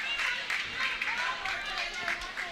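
Fans at a college bowling tournament cheer and clap in a loud, echoing bowling center, a steady wash of crowd noise and applause throughout with no clear pauses.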